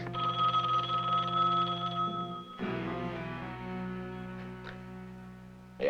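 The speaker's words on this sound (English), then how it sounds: "Come on, answer the phone." Telephone ringing in a 1975 film scene, a steady electronic ring tone that cuts off midway, followed by faint handling clicks, with no talk.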